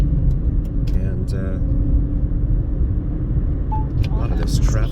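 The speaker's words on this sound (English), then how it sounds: "a lot of this traffic over here this time of day, rush hour" Rush hour road traffic in East Las Vegas near Lamb and Bonanza: a constant low rumble of passing vehicles heard from inside a moving car, with someone talking over it.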